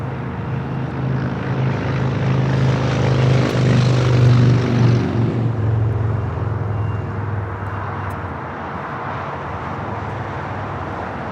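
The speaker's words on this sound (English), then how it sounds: "This is Japan Airlines Flight 61 taking off to Tokyo Narita on the 787-9 Dreamliner." A Japan Airlines Boeing 787-9 Dreamliner takes off from Los Angeles airport. Its jet roar swells loud and broad for several seconds, then eases into a fainter, receding rumble.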